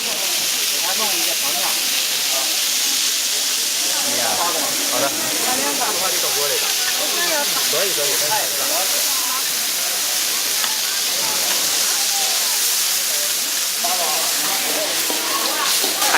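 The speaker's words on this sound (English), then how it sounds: "I actually heard the dumplings sizzling" Half-moon shaped dumplings sizzling on a hot griddle at a street food stall in Kunming, a loud continuous hiss with crackling, under a busy market bustle and chatter.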